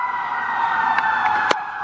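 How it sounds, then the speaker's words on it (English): Emergency vehicle siren passing by in Savannah near Forsyth Park, a steady wailing tone sounding fairly close and continuous, with a few brief clicks over it. "I'm going to wait for the siren to go by"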